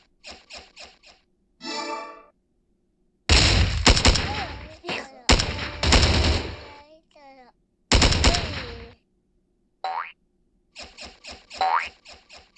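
Machine gun fire from a mobile video game heard through Edifier W820NB Plus headphones in game mode, loud rapid bursts separated by short silences, with squeaky effects and occasional electronic tones between volleys.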